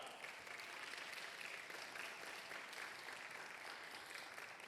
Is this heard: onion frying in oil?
no